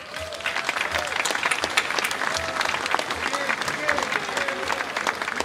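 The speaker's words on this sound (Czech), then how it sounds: "pojďme jim zatleskat" Steady, dense applause from a concert audience at a banjo festival in Čáslav, sustained and fairly loud, with faint crowd murmur and a few voices underneath.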